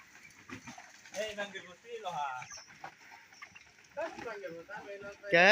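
Broiler chickens cluck and squawk close by in short bursts, with a loud agitated squawk at the end.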